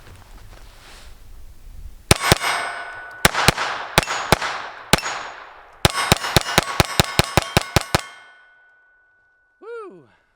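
A Sig P322 pistol, one that has been having problems, fires through its second magazine outdoors: about twenty sharp, loud reports in quick, uneven bursts with ringing tails, then quiet and a faint chirp at the end.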